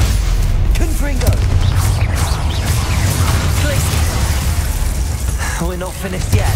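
A Confringo spell explodes amid loud Hogwarts Legacy duel combat, with booming, crackling impacts under shouted voices throughout.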